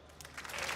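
Brief applause from a comedy show studio audience after a song, starting soft and swelling into a dense patter of clapping over less than a second.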